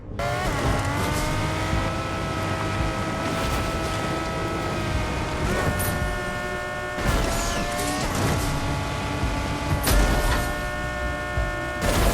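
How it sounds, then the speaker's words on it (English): A car in the Fortnite video game drives with a high-pitched, whining engine, steady revving tones shifting up and down through gear changes, with occasional tire squeals and no talking. "Also, the engine sound is really high pitched, which is, yeah, it does sound pretty cool."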